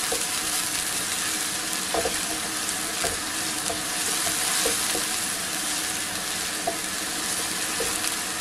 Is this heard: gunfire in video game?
no